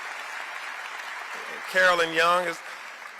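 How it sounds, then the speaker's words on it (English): The crowd at the Atlanta mayor's State of the City address keeps up a soft wash of applause while a voice announces a name over it. "Please give them a round of applause."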